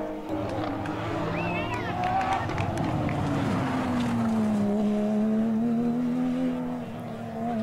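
A Porsche 911 997-generation GT3 Cup race car climbs a hillclimb course, its engine note droning and sliding in pitch as it passes, with a commentator talking over it throughout.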